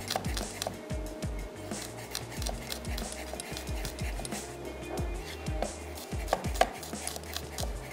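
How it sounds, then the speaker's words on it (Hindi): Garlic being crushed on a board for Mexican spicy rice, a series of firm knocking thuds in an uneven rhythm, close and moderately quiet, with light kitchen clatter behind. "लहसुन को कुचल के वो ऐड कर देते हैं"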